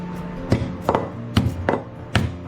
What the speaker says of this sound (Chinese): 我们先把虾仁给它拍一拍